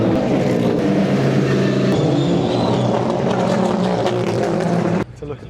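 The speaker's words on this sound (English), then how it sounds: "We've got even more cars rolling in over here." Hypercars roll in at a UK car meet with a loud, continuous engine roar and revving, close and full, then the sound cuts off abruptly near the end, with voices faintly present underneath.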